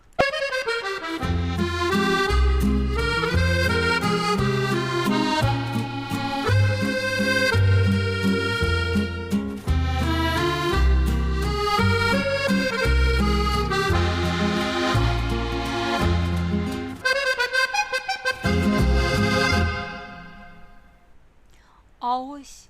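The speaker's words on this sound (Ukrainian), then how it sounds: "А ось це акордеон. І він звучить ось так." Accordion playing a lively tune with reedy sustained chords and a bouncing bass, loud and continuous, ending with a few fading notes.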